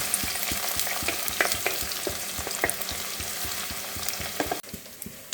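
Onions frying and sizzling steadily in a pan for a Kerala-style coconut milk curry, with fenugreek already in the oil, with occasional clinks of stirring throughout and a brief drop in level near the end.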